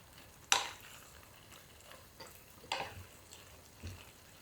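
Pasta stirred in starchy cooking water in a pot: a faint wet swishing with a sharp utensil knock near the start and a few softer clacks later, quiet overall and without speech.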